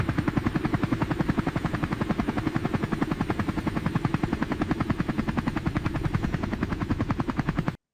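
Helicopter arriving, a loud, close, steady rapid rotor chop with dense broadband engine roar, continuous until it cuts off abruptly at the end.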